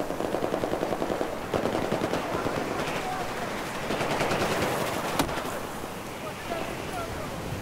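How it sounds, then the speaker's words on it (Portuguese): Rapid bursts of machine gun fire crackle through a Battlefield 4 multiplayer soundscape on the Gulf of Oman map, with sharp repeated shots over a steady noisy background and a louder crack near the end. "Cara, de onde veio o tiro?"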